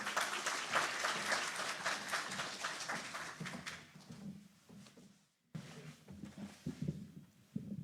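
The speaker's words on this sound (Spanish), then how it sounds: "La recibimos con aplausos, por favor." An audience at a presentation of Peru's national glacier and lake inventory applauds a speaker, with dense clapping that fades out after about four seconds, followed by scattered taps and footsteps.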